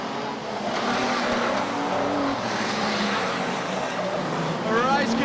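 Modified production race cars roar around Maryborough Speedway in a Queensland series race, engines loud and continuous as the pack charges into a turn, with a commentator talking over the steady racing noise.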